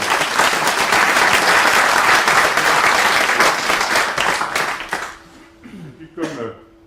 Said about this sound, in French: Comme vous l'avez rappelé par vos applaudissements